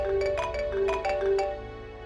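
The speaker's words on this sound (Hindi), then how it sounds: "पता नहीं किसका फोन है, सुबह से कॉल किए जा रहा है" A phone ringtone plays a looping electronic melody of repeated tones, moderately loud, over a low steady background hum.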